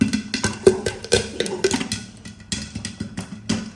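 Popcorn popping in a covered pan with butter: scattered sharp pops and crackles at an irregular rhythm, some close and loud, others softer, with no voices.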